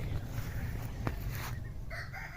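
Chickens pecking at rice bran feed on a small banana farm give off a faint, distant crow and soft clucks over a quiet outdoor hush.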